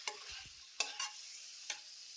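Eggs frying in oil over a low flame give off a quiet steady hiss, broken by a few sharp spatters or utensil clicks. The sound is faint and close, with no voices.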